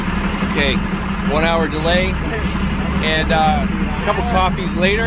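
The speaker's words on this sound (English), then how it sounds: "That's the sound of an engine running." A fishing boat's engine idles off Cabo San Lucas, a constant low mechanical hum running throughout beneath someone talking close by.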